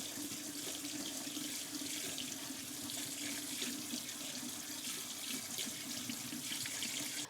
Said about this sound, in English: it also specifically says to rinse them under cool water to stop them from cooking